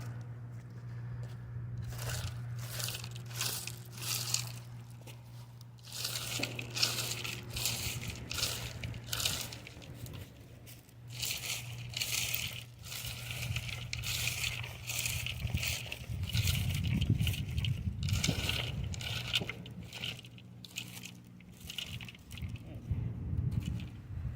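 Shovelfuls of 3/4 inch crushed standard gravel ballast are spread along a 1/8th scale backyard railroad track, giving repeated loud crunching scrapes in an irregular rhythm, close by, with a low steady hum underneath.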